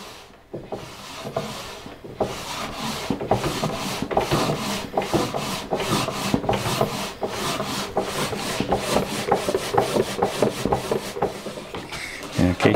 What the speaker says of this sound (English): what I'm trying to do is create a little burnish mark wherever this is rubbing so I can go in and address it